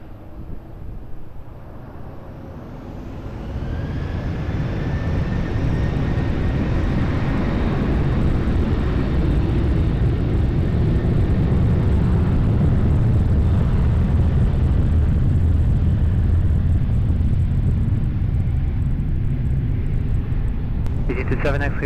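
A Ryanair airliner takes off from runway 20 at Lisbon Airport, a broad jet-engine roar that builds after a few seconds and holds loud and steady. A tower controller's radio voice speaks over it.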